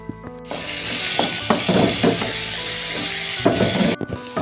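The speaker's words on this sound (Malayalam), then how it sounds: "ഇഞ്ചി മൂത്ത് ആക്കി വെച്ചിട്ടുണ്ട് കണ്ടോ ഒരു സൗണ്ടൊക്കെ കേൾക്കുന്നുണ്ട് കേട്ടോ" Ginger fries in hot oil for a Kerala-style ginger curry, a loud steady sizzle close by, broken by a few stirring scrapes and bursts of crackling.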